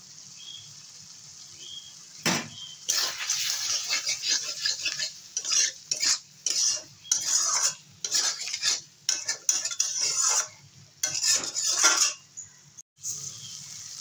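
Potato and pointed gourd curry with sesame and poppy seed paste and prawns being stirred in an oily pan, a quick run of close, rhythmic metal scraping and clinking strokes over a faint sizzle, no talking.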